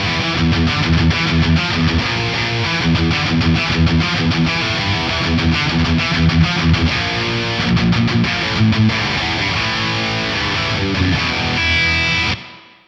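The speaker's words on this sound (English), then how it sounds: "I always like starting out with a plate reverb on guitars." Distorted electric guitar playing a driving riff with a bright, roomy plate reverb tail, loud and continuous before cutting off at the end.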